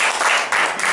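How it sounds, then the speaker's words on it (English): A meeting audience gives a brief round of applause, a dense patter of hand claps that is fairly loud and close, with no voices. "we'll give a round of applause for the fans."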